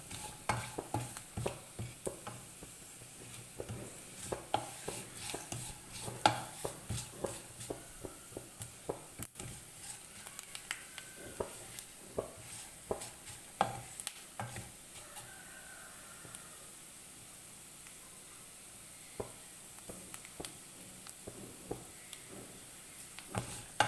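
Coconut pieces and sesame seeds roast in ghee with soft, quiet crackling and faint popping, joined by scattered scraping ticks of a stirring spoon throughout.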